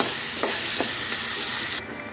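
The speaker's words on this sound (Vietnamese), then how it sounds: "Đây nồi cháo nó cũng sôi rồi ha." A pot of rice porridge boils steadily on a home stove, giving a constant loud hiss and bubbling with a couple of faint clinks, then dropping slightly quieter near the end.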